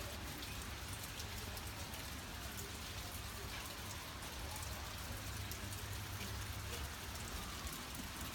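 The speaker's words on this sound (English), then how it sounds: "it sure is a rainy day out here at the Terry Depot in Terry, Mississippi" Steady, dense rain pours outdoors at a railway depot in Terry, Mississippi, a continuous loud hiss of drops on surfaces with a low rumble beneath and no voices.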